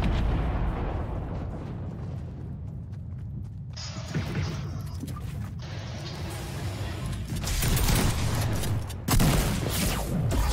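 Gunfire from a Fortnite duos match, including sniper shots, sounds as a series of sharp cracks and bursts over a busy, noisy game soundscape, with louder shots toward the end.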